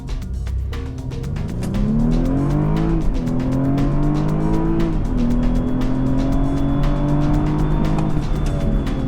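A BMW 228i launches hard from a standstill in a 0 to 60 drag test, its engine note climbing steadily through several upshifts with brief dips between gears, loud and close throughout with no talking.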